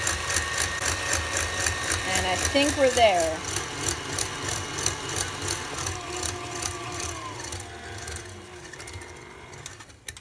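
Electric mixer whisking salted caramel frosting at high speed, a steady rhythmic mechanical whir that pulses evenly throughout and eases off near the end, with a person talking briefly over it.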